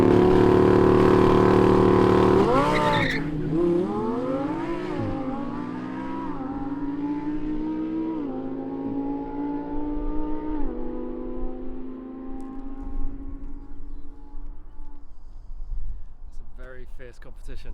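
Lamborghini Huracan, McLaren Artura and Porsche 911 Turbo in a half-mile drag race: a loud engine roar cuts off, then rising and falling engine tones from cars shifting gears sound steadily at a moderate distance, with voices talking over them.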